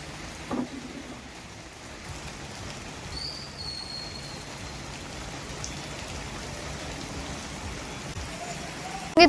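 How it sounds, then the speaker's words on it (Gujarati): Steady monsoon rain in rural Gujarat around Bardoli, Mahuva and Palsana, a soft continuous hiss of falling drops with a faint passing whine and a couple of brief knocks. "જિલ્લાના બારડોલી, મહુવા, પલસાણાના ગ્રામ્ય વિસ્તારોમાં વરસાદ છે।"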